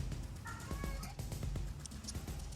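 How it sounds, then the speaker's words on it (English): A house cat meows several times in quick succession, the calls clear and fairly close over faint room noise. No one speaks while it meows. "Quiet, cat."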